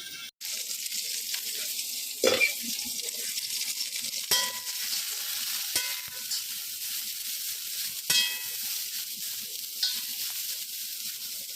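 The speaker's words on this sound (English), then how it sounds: "Now let's fry our broccoli." Broccoli stir-fries in a pan for a prawn and oyster mushroom dish, giving a steady, close sizzle with occasional scrapes and clinks of stirring throughout.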